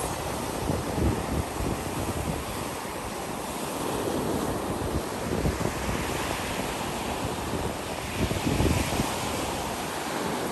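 Ocean surf washing continuously onto a beach on a humid, chilly day, a loud broad roar of breaking waves with wind buffeting the microphone throughout.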